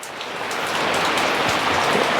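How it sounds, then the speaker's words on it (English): Steady rain falls during a thunderstorm, a dense, even hiss of drops on surfaces, close and continuous with no voices. "while the rain's calmed down a bit"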